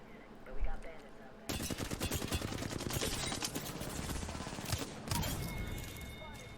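Rapid automatic gunfire in an Apex Legends 1v1 gunfight, long bursts of fast, sharp shots that start abruptly after a quiet moment and continue to the end, with a faint voice underneath.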